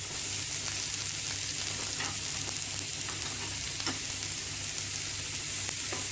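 Cabbage and capsicum stir-fried together in a pan for Chinese noodles, giving a steady close sizzle with faint stirring scrapes throughout, no talk.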